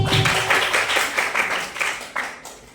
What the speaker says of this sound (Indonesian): kasih tepuk tangan untuk Fitri